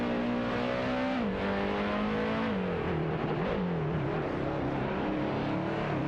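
Racing cars in an AI-driven racing game with Alfa Romeo, Peugeot 407 and Audi A4 touring cars: a loud, steady engine drone whose pitch rises and falls through gear changes as several cars run close together.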